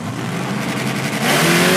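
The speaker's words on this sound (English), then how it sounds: "That screaming Mustang down the Pertex side" A nitrous-fed Mustang drag car launches off the line at Richmond Dragway, its engine roaring loud and close, rising sharply into a screaming rev partway through.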